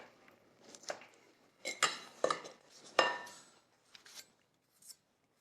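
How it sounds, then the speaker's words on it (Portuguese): Knife scraping and clicking against a cutting board as charred, sweet roasted corn kernels are cut off the cob, a few sharp scrapes and taps close up with short pauses between. "Só quero cortar esses grãos torrados e doces."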